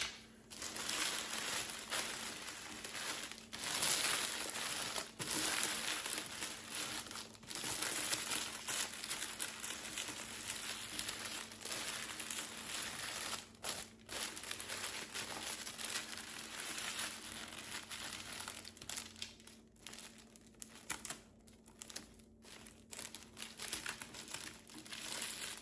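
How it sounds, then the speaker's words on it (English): Tape being applied while building a giant DIY diamond lollipop decoration: steady crinkling and crackling of plastic and tape, with brief sharp tearing bursts, close and fairly quiet, with no voice. "I'm going to put a piece of tape at that place."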